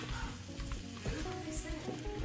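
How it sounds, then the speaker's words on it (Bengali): Eggplant and potatoes stir-fried in a pan, a constant sizzle with scraping and stirring knocks from the utensil, close up. "এতে দিয়ে দিব আবার বেগুন এবং আলুগুলো। জিনিসটাকে আমি খুব ভালো করে কষিয়ে নিব।"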